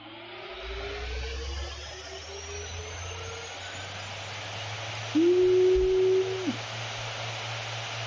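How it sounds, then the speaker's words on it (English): An Aorus 15 XA gaming laptop's cooling fans at maximum speed hum steadily throughout, joined midway by a louder tonal drone that holds for about a second before fading back. "And maximum fan curve, check this out."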